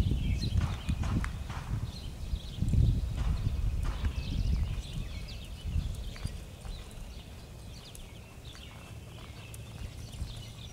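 Horse hooves clip-clop on the ground of a pen as a relaxed horse moves around, with repeated soft steps at close range and birds faintly chirping in the background.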